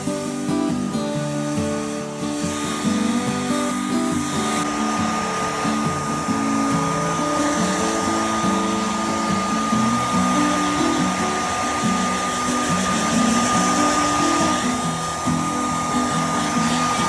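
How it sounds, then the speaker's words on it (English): Hair dryer blowing on newborn goat kids, a loud, constant whirring hum close by that runs unbroken throughout with no talk. "So Mama doesn't like the hair dryer"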